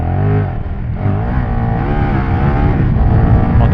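A loud KTM 1290 Super Duke GT sport motorcycle engine revs continuously, its pitch rising and falling as the throttle opens, close and unbroken for a few seconds.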